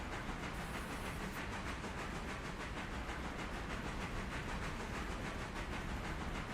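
A freight train rolls past on the rails, a steady broadband rumble and hiss with faint rhythmic clatter, moderately distant and continuous, with no talk.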